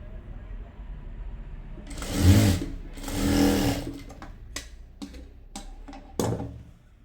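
A sewing machine stitches pencil pant fabric in two sustained whirring runs, followed by scattered clicks and short bursts as the cloth is adjusted.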